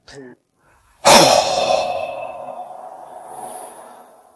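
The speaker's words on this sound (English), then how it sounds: "It's called forceful exhalations." A short breathy sound opens, then after a pause a strong, forceful exhalation bursts out close to the microphone and slowly fades away, part of a breathing technique that pushes air out under added pressure.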